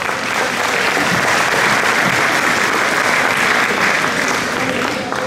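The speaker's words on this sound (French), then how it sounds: "On va vous applaudir." Loud, full applause fills the hall at an extraordinary and ordinary general assembly in Mourenx, a continuous wash of many hands clapping without pause.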